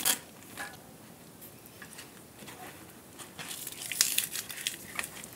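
A knife slicing leek into rings, with crisp crunching cuts and rustling that turn into a quicker run of dense chopping near the end, faint and close, with no talking.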